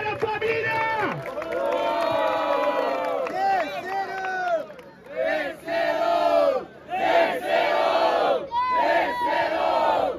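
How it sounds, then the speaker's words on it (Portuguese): A crowd at the Batalha dos Estudantes freestyle rap battle in Guarulhos roars, whoops and shouts in loud, surging waves that break and swell again, close and filling the space, with voices yelling throughout. "Barulho pra essa batalha, família!"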